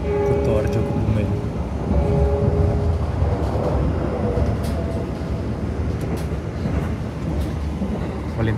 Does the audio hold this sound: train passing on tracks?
yes